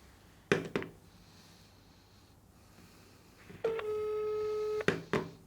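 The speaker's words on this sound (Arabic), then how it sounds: "طب رن من غير ما يقول لي اضغط كذا اهو" A telephone ringback tone on an outgoing call to an American number: one steady, loud electronic tone lasting about a second, with sharp clicks of the line just before and after it and no talking.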